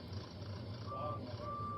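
Bertie the bus from Thomas the Tank Engine sounds a short series of electronic-style horn beeps, steady tones over a continuous engine rumble and faint background noise.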